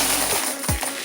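Coins are loaded into a laundromat change machine, with a couple of quick metallic drops and jingles over a loud, steady machine hum, close by and brief.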